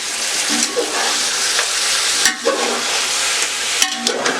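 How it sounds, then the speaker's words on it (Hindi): Ginger garlic paste is stirred into chicken frying in a pot for Karachi-style teh wali chicken biryani, giving a steady close sizzle broken by a few scraping stir strokes, with no talking. "अब हम इसे हिला देंगे।"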